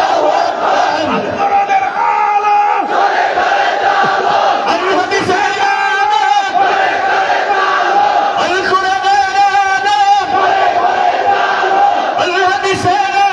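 A massed crowd at an outdoor Islamic religious gathering in Hatiya, Noakhali roars Allahu Akbar in response to a takbir call, loud sustained group shouting in repeated waves with a preacher's voice among them.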